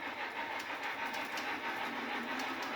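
A long model railroad train of about thirty cars running on a layout, a faint, steady rolling rumble with light rhythmic clicks of wheels over track joints.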